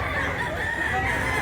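A year-old Sweater-line gamefowl rooster crows loudly and close up, one sustained strained call filling the whole brief moment with no pause.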